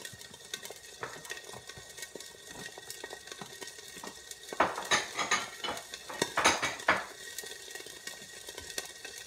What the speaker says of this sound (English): I'm going to cover this with a lid. I have a large lid here.